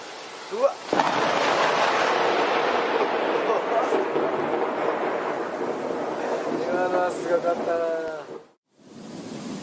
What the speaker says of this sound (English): The most dangerous moment is when thunder immediately follows lightning, like in this case.